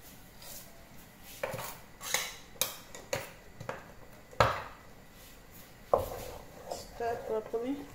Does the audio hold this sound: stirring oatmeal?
yes